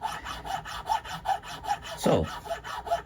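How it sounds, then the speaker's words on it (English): A '50s Gibson-style nylon guitar nut being filed, with rhythmic back-and-forth rasping strokes at a steady pace, close and moderately loud, and one brief louder scrape near the end; a single short spoken word. "Let's flip it over and let's do some filing."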